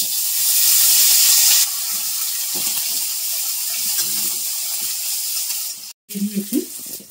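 Chopped tomato hitting hot oil for a moong dal khichuri, opening with a loud bright hiss that settles into a steadier sizzle, ending in a short gap and a few clatters.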